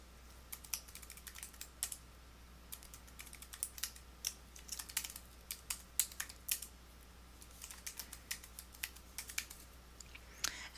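Rapid typing on a computer keyboard while user account details are entered in a Joomla admin panel, with irregular bursts of crisp keystrokes over a faint steady hum.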